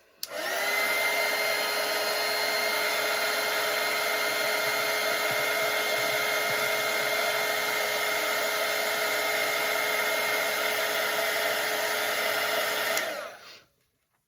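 A hair dryer drying watercolour paint on a portrait painting, running as a loud, steady whirring blow with a constant tone for about thirteen seconds before it switches off and winds down.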